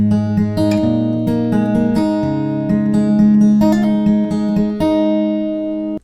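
An acoustic guitar plays the first fingerpicked line of a song intro, a flowing run of plucked notes with hammer-ons over ringing bass, close and unaccompanied, ending in a brief stop.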